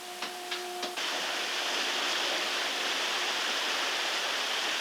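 A steady broadband rush of water floods into a ship compartment, loud and close, after a few brief clicks and a faint tone at the start.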